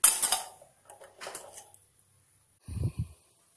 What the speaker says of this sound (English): All my pots are loaded into my solar oven.